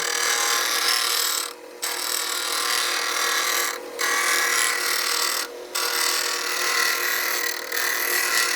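A scrub plane iron ground on a grinding wheel, producing a loud, continuous harsh whir in long passes broken by three or four brief dips where the blade lifts off.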